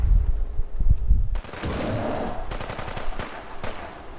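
Rapid bursts of gunfire crackle in quick succession, with a few heavier single shots before a sustained rattling volley, fairly loud and close, in the video game Fallout 4.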